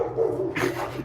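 Puppies bark in a short, close burst, a couple of yips and barks that rise near the end of the brief moment.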